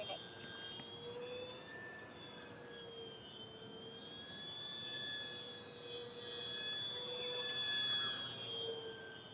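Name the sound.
E-Flite Corsair 1.2m RC warbird plane flying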